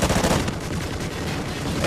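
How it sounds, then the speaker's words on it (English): Rapid gunfire in Call of Duty: Ghosts is aimed at the player. Close bursts of automatic shots crack in quick succession across the whole moment. "They're still shooting me."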